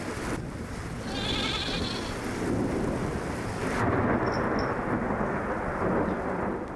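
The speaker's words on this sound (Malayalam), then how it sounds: "ഇതെന്നാ മഴയാ എൻ്റെ അമ്മച്ചിയെ, ഒരു കുറവുമില്ല. ആർത്ത് പെയ്യുവാണല്ലോ" A dramatic thunderstorm roars with a low, rumbling wash of thunder over a steady downpour of heavy rain. The noise is loud and continuous, swelling midway, with no voices heard.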